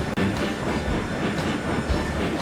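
A train in the video game Railroads Online rumbles steadily along with a rhythmic clatter of wheels over track, loud and close, with no voices.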